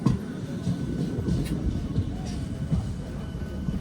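An electric train runs through snowy Kashmir in winter between Banihal and Baramulla, giving a steady low rumble with faint rhythmic rail clatter. The sound is heard from on board and stays continuous and moderately loud.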